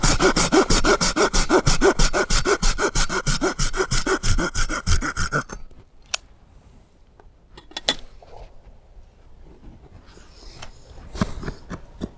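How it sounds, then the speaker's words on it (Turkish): A hand saw rasps through wood while carving a spoon at a campsite, in quick, regular back-and-forth strokes, loud and close, then stops, leaving a few scattered knocks and rustles. "Silki de güzel testere. Ne yalan söyleyeyim güzel kesiyor."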